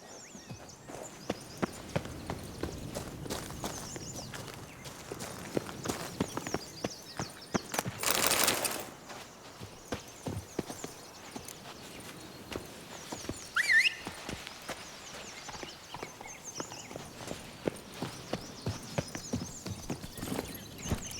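Horse hooves clip-clop in a quick, even gallop in The Witcher 3's Blood and Wine expansion, close and continuous over soft ambient game sound, with a brief louder rush midway.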